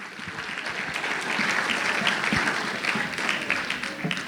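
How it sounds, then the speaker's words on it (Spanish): An audience at a Pentecostal evangelism gathering claps steadily for the Lord, a continuous moderately loud applause with faint voices mixed underneath. "Dale un aplauso fuerte al Señor."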